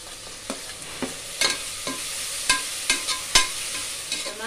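Tomatoes fry in a pan with a steady bright sizzle, while a spoon stirs them and knocks the pan in irregular sharp taps, close up, with no talking.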